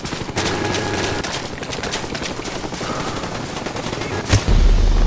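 A sentry gun fires in a military shooter video game, loud continuous rapid gunfire with other shots mixed in, ending in a sharp heavy blast.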